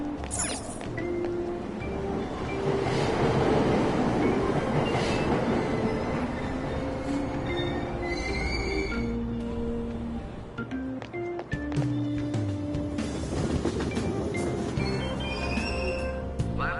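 A train pulling out of a station in Persona 5 Royal: steady loud rumble of wheels and carriages with rising tonal whine and squeal, continuous throughout, no voices.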